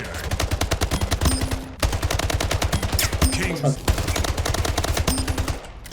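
Rapid automatic assault rifle fire in the first-person shooter Splitgate, loud close bursts of evenly spaced shots broken by short pauses.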